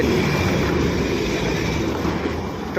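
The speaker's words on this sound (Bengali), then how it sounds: "ট্রেন চলে গেল।" The Darjeeling Himalayan Railway toy train rumbles and rattles close by at Batasia Loop, a loud continuous clatter that fills the whole stretch without any voices.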